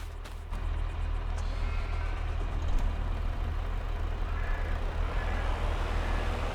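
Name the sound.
truck driving, from the video game Farm Sim 22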